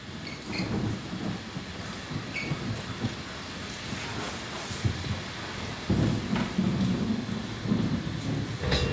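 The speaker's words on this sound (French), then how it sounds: "Ça y est, il pleut." Steady rain hisses and patters on surfaces, with a low rumble of thunder swelling underneath toward the end.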